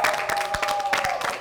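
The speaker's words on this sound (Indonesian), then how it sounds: "kasih tepuk tangan buat semuanya." An audience at a faculty face-off competition final applauds all contestants, a dense wash of clapping and crowd noise filling the short moment with a steady tone in the background.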